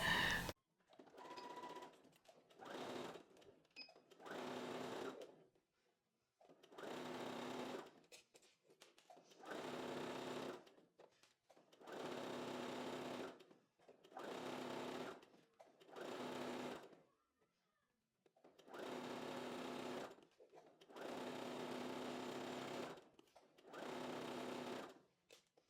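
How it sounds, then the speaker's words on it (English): A sewing machine runs a long seam on a maxi dress in about ten whirring bursts of a few seconds each, separated by short quiet pauses, close and steady. "So I'm gonna start sewing here till the end over there."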